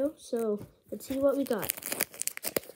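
Crinkly foil tearing and crumpling close by as a Pokémon trading card pack is opened while a person talks, with rustling bursts toward the end.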